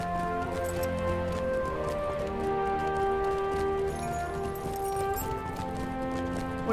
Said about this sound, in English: Go to find the horse and we'll get back up to the 6th circle.